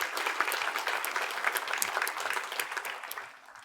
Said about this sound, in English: go ahead, applaud for me.